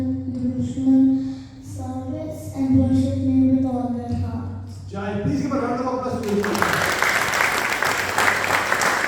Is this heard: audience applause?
yes